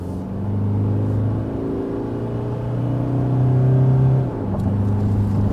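A 2021 Toyota Hilux with the 2.8 diesel accelerates hard from 60 to 100 km/h in power mode, a steady loud engine drone climbing in pitch with a brief shift dip near the end, heard from inside the cabin.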